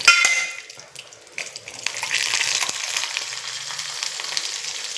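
Cashews frying in hot coconut oil for milk payasam, with a steady bright sizzle and crackle building after a brief quieter stretch and continuing close and moderately loud.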